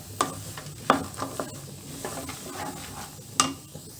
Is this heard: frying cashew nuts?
yes